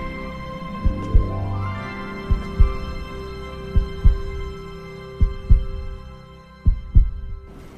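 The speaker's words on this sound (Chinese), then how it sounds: "别让他听见你的心跳声" Heartbeat sound effect heard as paired low thumps repeating at a slow, regular rhythm about every second and a half, loud and close over a faint sustained hum.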